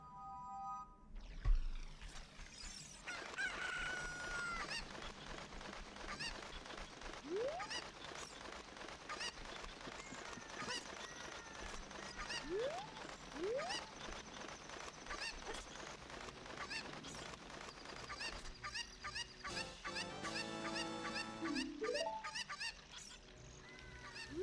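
Chickens in the PC port of Ocarina of Time let out scattered squawks and clucks over several seconds above busy game background sound, with no voices.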